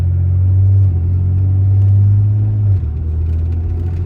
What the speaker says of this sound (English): oh God, I love it when a 68 RFE shifts locked like that